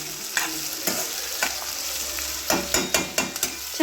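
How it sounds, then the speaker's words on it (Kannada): Food fries and sizzles in a pan over a continuous hiss, with sharp clicks and scrapes of stirring scattered throughout and no talking. "ಚೆನ್ನಾಗಿ ಫ್ರೈ ಆಗಬೇಕಿದು."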